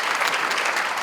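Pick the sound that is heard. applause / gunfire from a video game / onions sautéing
applause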